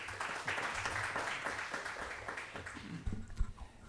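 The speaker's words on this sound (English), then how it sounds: "The floor is yours. Rounds of applause." Audience applause at an Islamic psychology conference as a dean comes up to the stage, a fairly faint, steady round of clapping that fades toward the end.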